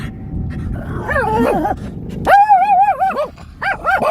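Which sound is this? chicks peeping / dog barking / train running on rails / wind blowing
dog barking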